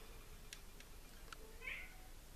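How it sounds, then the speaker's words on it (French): A cat meows faintly at a bedroom door, one short soft call late in the moment, with a few light scratches or taps before it, all quiet against a hushed indoor room. "ce sont mes chats qui veulent rentrer dans ma chambre"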